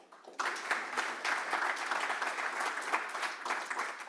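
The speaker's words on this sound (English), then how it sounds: "we can clap for each" Audience applause for student presenters at a university innovation fund pitch event, a steady burst of many hands clapping that starts abruptly and carries on evenly, fairly close, with no talk over it.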